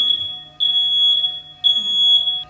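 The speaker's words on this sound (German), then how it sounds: "Und wenn der da oben ist, der Rauchmelder, dann fängt er irgendwann an," A smoke detector shrieks in loud, piercing high-pitched tones, one long blast followed by repeated pulsing beeps, with nothing else audible around it.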